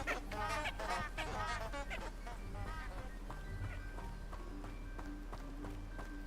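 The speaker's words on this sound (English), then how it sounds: "Or maybe they were honking like geese." Quacking flowers in the Hogwarts Legacy video game give off a run of quick honking, duck-like squawks, dense and overlapping at first, then thinning into sparser calls over a steady low hum.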